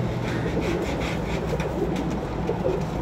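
Pigeons coo softly in a loft, low repeated throaty calls rising and falling under a steady background hum, with some faint knocks and rustling nearby.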